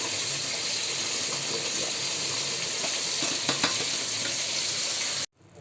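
Sticky rice being stirred in a pot of coconut milk and sugar while cooking suman malagkit, giving a steady close bubbling sizzle with soft scraping, ending abruptly.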